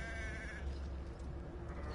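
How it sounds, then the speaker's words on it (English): A sheep bleats in a wavering cry in the video game Hogwarts Legacy, over a steady, fairly loud background hum. "This fucking sheep won't stop dying."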